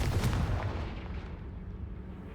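Confringo spell blasts in the Hogwarts Legacy video game go off as loud, booming explosions, with several heavy bursts in the first second fading into a rumbling, crackling tail.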